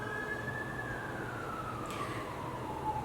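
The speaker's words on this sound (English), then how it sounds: "A lot of sirens and noises going on in the background there." Distant emergency siren wailing faintly in the background, its tone slowly sliding downward over a steady low rumble of street noise.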